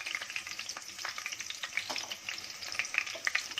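Three mild chillies crackle in hot oil for a Konkani bhindi fry, a soft but busy spatter of pops and hiss heard close up with no voices.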